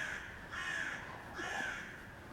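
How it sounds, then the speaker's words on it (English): A crow caws twice outdoors on a Munich street, two harsh, drawn-out calls about a second apart, moderately distant over quiet background hiss. "me and the crow. Not the crew, the crow."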